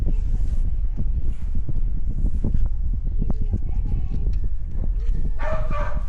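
A dog, likely the reactive dog Roman being trained, barks in a series of short, sharp woofs outdoors, with some wind noise over the microphone and occasional voices.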